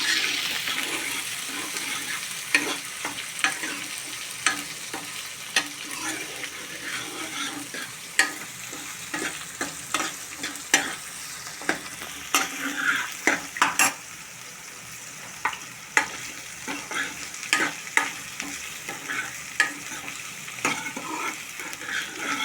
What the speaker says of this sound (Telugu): ఇది ఆగేట్లా ఉల్లిపాయ బాగా గోల్డెన్ కలర్ వచ్చేదాకా వేపాలి.